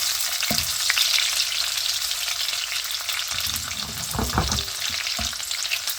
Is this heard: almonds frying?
yes